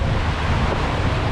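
Rough Atlantic sea waves during an ocean crossing, a dense continuous wash of surf and rushing water mixed with strong wind noise, loud and close with no breaks.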